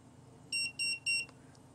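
A microwave leakage detector gives three short, high electronic beeps in quick succession, quiet and close.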